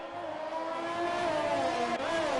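Race car engines in an F1 racing video game, a McLaren among them, drone loudly and steadily with high whining harmonics that shift slightly in pitch, continuous throughout with no talk.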